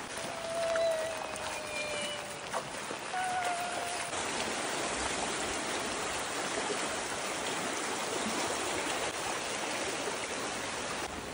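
Muddy red monsoon water rushes steadily along a canal in the Konkan countryside, a dense, even hiss of flowing water that persists throughout, with a few faint tonal sounds early on.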